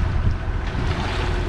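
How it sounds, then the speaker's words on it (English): Sailboat under motor and sail off the southern coast of Spain, a constant low engine rumble mixed with wind buffeting and water rushing past the hull, close and unbroken. "We're motor sailing"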